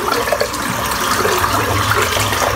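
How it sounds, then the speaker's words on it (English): Running water splashes steadily as soap is rinsed from a large shaving brush under a tap, close and continuous. "Just rinse the soap out."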